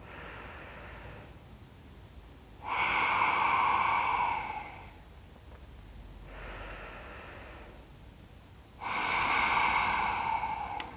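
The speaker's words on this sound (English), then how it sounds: "breathing into the stomach, breathing out. Breathing in through the tummy, and back out" Slow deep belly breaths during a chair yoga session, each long inhale and exhale drawn clearly and close, repeated in a steady rhythm with quiet pauses between, no talking.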